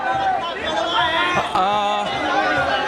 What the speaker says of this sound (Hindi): यहाँ भी आप देखिए, यहाँ भी नारेबाजी है